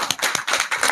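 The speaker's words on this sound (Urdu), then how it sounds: "بھرپور تالیوں میں شیر افضل مروت صاحب" A crowd applauds Sher Afzal Marwat at a political gathering with a brief, loud burst of quick, fairly close hand claps that come in uneven pulses.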